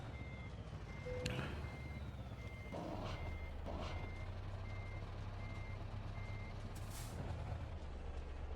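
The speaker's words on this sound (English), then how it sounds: "I don't like the sound of my brakes" An American Truck Simulator truck manoeuvring slowly, steady engine rumble under a regular series of reversing beeps, with a sharp hiss of air brakes releasing near the end; quiet overall, no talk.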